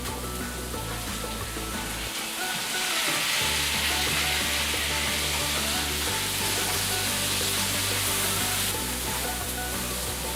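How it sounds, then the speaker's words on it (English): Green peppers and tomatoes for paneer buns sizzle and fry steadily in a pan, with stirring scrapes; a loud, continuous hiss with a short lull around the two-second mark, no talking. "We will now add the green peppers, give it a stir and add the tomatoes."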